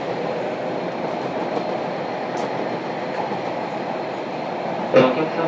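A JR Kyushu 305 series W1 set runs on the Chikuhi Line between Chikuzen-Maebaru and Fukuoka Airport, heard as a steady interior roar with faint clicks from the rails and a brief clack near the end.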